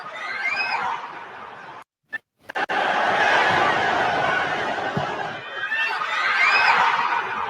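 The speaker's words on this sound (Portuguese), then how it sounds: "para ver a torcida do Fluminense soltando o grito de gol" Fluminense supporters roar and shout a goal celebration in a packed stadium against Corinthians, a loud sustained crowd din with voices rising in waves. It cuts out briefly near the start, then swells back fuller.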